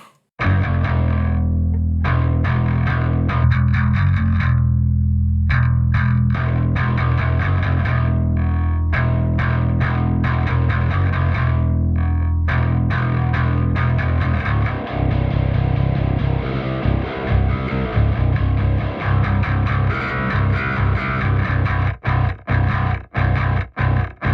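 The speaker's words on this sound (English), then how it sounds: "So let's take a listen to the bass amp." Distorted high-gain bass amp tone from an Audio Assault AHM 5050 amp plugin, with loud, dense, continuous riffing and rhythmic chugs throughout and no talking.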